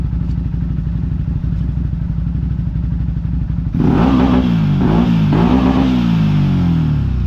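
A motorcycle with a holed exhaust idles with a rough, pulsing chug, then abruptly revs louder and harsher, the engine note rising and dipping in a few blips, close and loud with no talk.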